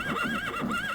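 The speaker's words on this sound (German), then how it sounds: "das Pferd dreht jetzt völlig am Rad" A horse in the retro role-playing game Daggerfall lets out a loud, close whinny with a wavering, repeated rise and fall, heard alone.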